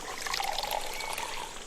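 Water splashes and pours steadily while rinsing out a Kea Stash trash compacting bag, a close, continuous gushing wash with no voices.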